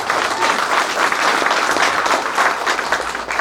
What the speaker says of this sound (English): I want to give a round of applause for each and every one of the families that are here supporting their